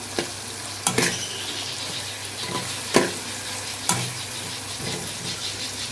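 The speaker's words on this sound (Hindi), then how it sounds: "टमाटर को हम 5 से 10 मिनट तक भूनेंगे।" Tomato masala sizzles and fries in a pan for aloo palak curry, a steady crackling hiss broken by a few sharp stirring scrapes and clinks, close and with no talk.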